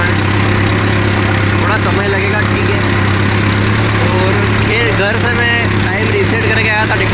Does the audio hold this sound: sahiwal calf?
no